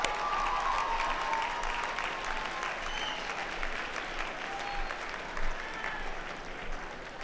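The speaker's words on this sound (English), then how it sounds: "Give yourself a round of applause." Community college graduation crowd gives sustained applause, a dense, even roar of many clapping hands with scattered cheers, somewhat distant and filling a large venue.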